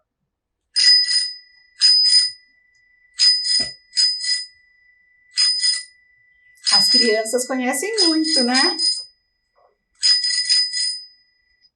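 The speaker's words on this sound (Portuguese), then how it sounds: "É um som da buzina de uma bicicleta, isso mesmo." Bicycle bell rung in a series of bright, repeated double rings, loud and close, with a short spoken question in Portuguese between rings.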